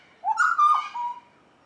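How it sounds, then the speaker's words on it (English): A butcherbird, compared to a miniature kookaburra, sings one loud, close, warbling whistled phrase lasting about a second, rising then gliding down, with no talking. "He's a little butcher bird, like a little miniature kookaburra. He's quite loud and persistent."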